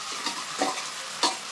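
Mango pickle with sugarcane jaggery is stirred in a pan, a soft steady sizzle with a few brief scraping strokes of the spoon, close up and with no voices.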